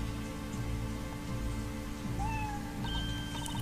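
A cat meows over a steady background of rainfall and a low hum, a short cry standing out faintly against the wash of noise.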